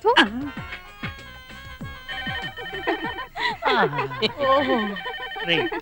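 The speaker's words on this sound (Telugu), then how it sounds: "టెలిఫోన్ ఎంతసేపటి నుంచి రింగ్ అవుతుంది, తీయండిరా" A telephone rings repeatedly in a Telugu film scene, its bell-like tones sounding under and between loud overlapping speech and music.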